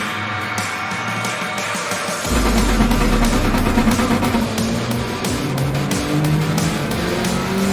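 An engine-swapped 587PP Mini Cooper racing against GR3 cars in Gran Turismo 7, its engine roaring loudly and steadily with rising revs and shifting pitch, and no talk over it.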